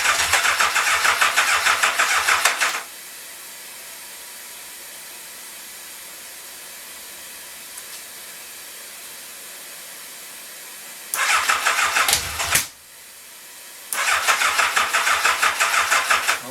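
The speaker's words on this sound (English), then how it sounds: "Starter clutch doesn't sound real happy there," Engine cranking on first start-up with a struggling starter clutch: a loud mechanical grinding crank for a few seconds, a long quiet pause, then two more cranking bursts, never catching.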